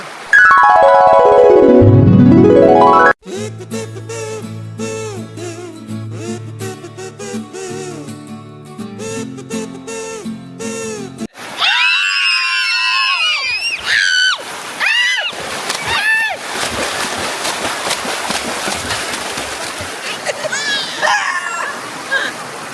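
A small waterfall pouring and splashing steadily over rocks, close and loud. People talk over the constant rush of water throughout.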